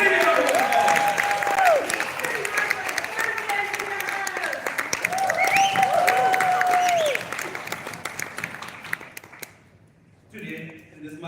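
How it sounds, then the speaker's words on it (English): An audience at an online masterclass claps for qualifiers, with dense applause under a prominent whistling or tonal sweeping sound, and a voice speaking over it; the clapping fades out near the end. "Give yourself a very, very big round of applause."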